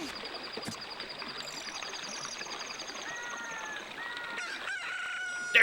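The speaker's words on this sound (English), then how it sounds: "Give me the rooster." A rooster crows from within an Ocarina of Time game soundtrack, its drawn-out call rising over steady background music and ambient tones toward the end.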